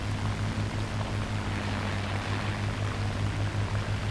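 A Spitfire LF Mk IX propeller engine drones steadily in flight in a video game dogfight, a constant even roar with a low pulsing hum beneath.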